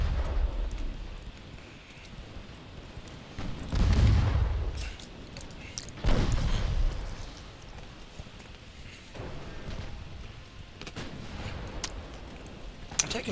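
British warships fire their naval guns at an enemy ship in Ultimate Admiral Dreadnoughts. Two heavy booming salvos roll out a few seconds apart, with fainter distant shots and rumble between them.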